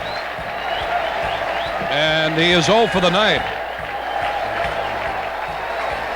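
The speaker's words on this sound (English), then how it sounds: "Listen to the crowd." A baseball stadium crowd roars and cheers for Cal Ripken at an Orioles game in 1983, a broad sustained swell of noise with a commentator talking over it and a sharp whistle-like rise in the middle.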